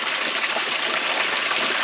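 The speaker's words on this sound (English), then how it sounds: "A mini waterfall." A small natural waterfall cascades beside an uphill trail, giving a steady, close rush of splashing water with no voices.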